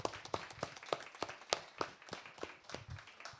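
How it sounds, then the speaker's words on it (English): A small audience claps for a guest at an arts event, a sparse, faint round of distinct hand claps with uneven rhythm, sounding like only a few people in a modest room. "a round of applause for our guest"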